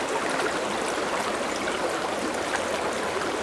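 Steady rushing flow of spring water emerging from the ground, a continuous close gurgle and splash at Skyuka Springs, with no voices.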